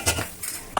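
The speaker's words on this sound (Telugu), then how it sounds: "కొంచెం మగ్గేదాకా కొంచెం మూత పెడదాం" A metal lid clinks down onto a cooking pot of onions for chicken biryani, a couple of short clattering knocks close by, with no voices.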